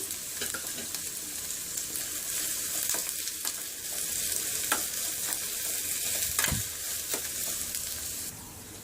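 Curry leaves fry with onions in a pan for ragi roti, a steady loud sizzle running throughout with scrape-and-stir clatters breaking through it.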